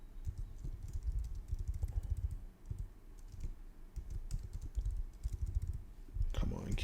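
Rapid keyboard typing clatters steadily with irregular clicks, near and moderately quiet, ending in a louder clack.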